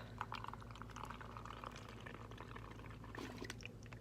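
Micellar water is poured from a bottle into a container, making a soft, steady trickle that runs throughout, faint and close, with a low background hum.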